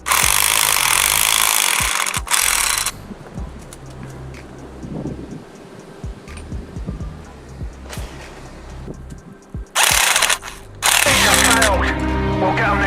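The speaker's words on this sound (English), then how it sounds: "we've got the difficult task of trying to get the bushing pressed into this control arm" A polyurethane bushing is pressed into a BMW control arm, with bursts of loud harsh grinding and scraping between stretches of quieter creaks, knocks and tool handling, while a voice talks in the calmer gaps.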